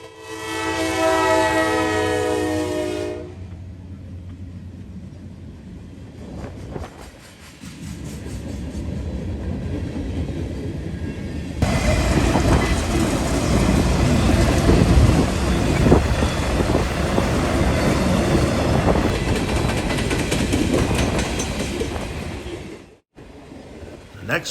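Daily freight manifest train passing a railside spot in northwest Ohio, opening with a loud multi-tone horn blast, then a long heavy rumble and clatter of cars rolling by close, with wind buffeting the microphone.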